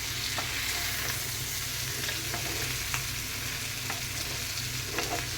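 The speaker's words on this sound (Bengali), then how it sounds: "এখন মিক্স করে নিলাম।" Fried chicken with capsicum, onion and tomato sizzles steadily in hot oil while a utensil stirs it, scraping against the pan in occasional soft strokes; no one speaks.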